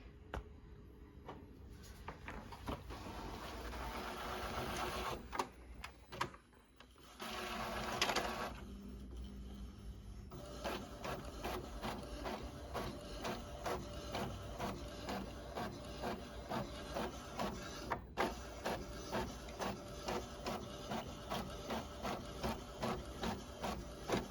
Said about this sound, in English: we're gonna go ahead and print this one up again